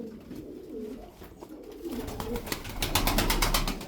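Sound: pigeon wings flapping

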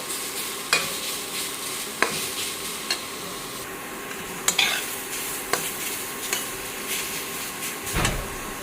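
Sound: stir-frying carrots in hot oil for carrot halwa

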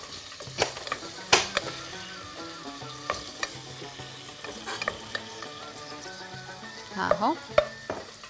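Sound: onions and mushrooms frying and being stirred in a pan

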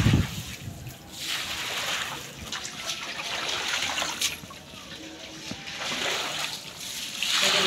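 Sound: splashing while removing collected rainwater

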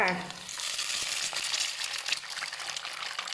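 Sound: garlic and egg frying in oil for fried rice

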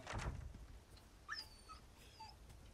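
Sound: dog or wolf whimpering in video game Resident Evil 4 Remake

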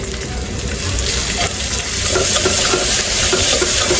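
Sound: spice paste frying in oil

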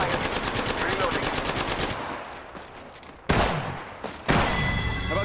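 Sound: gunfire in a video game

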